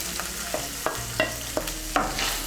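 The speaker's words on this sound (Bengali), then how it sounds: "টমেটো বাটাটাকেও মিশিয়ে নেব।" A spoon stirs tomato paste into spices frying in oil in a pan, a sizzle running underneath while the spoon knocks against the pan about six times at an uneven, unhurried pace.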